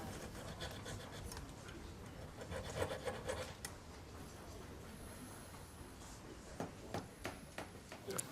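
Hand saw rasping through a wooden piece clamped in a vise, taking off a thin slither for a repair on a century-old dominoes set; steady close sawing strokes with a few sharper scrapes near the end.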